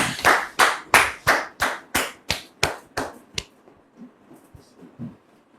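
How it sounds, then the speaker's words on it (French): Audience welcoming a guest at a church gathering with a run of about a dozen loud, evenly spaced rhythmic claps that fade out, followed by quiet room murmur. "sous vos applaudissements"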